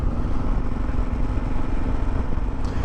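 A Kawasaki KLR 650 motorcycle rolls slowly along a gravel road at about 30 mph in cold weather, giving a steady, continuous engine drone mixed with wind and road rumble, close and loud throughout.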